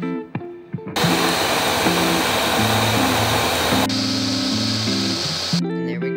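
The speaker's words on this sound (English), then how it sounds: "And now we're going to blend her up." A kitchen blender whirs loud and steady as it blends a protein fruit smoothie with milk, a continuous motor roar lasting several seconds, with a brief shift in pitch partway through and a short stretch of quiet before and after.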